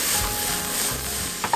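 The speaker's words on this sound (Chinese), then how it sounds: "我们倒入一点点的水，让那个冻豆腐跟油豆腐去吸那个酱汁，" Steady loud sizzling of frozen and fried tofu in sauce in a pan after a little water is poured in, a continuous hiss with faint stirring clicks near the end.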